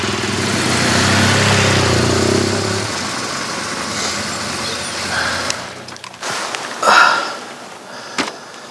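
An off-road adventure motorcycle starts and pulls away after a fall, its engine idling steadily then revving in short bursts as it rides off on a dirt trail, fairly close and with no talking.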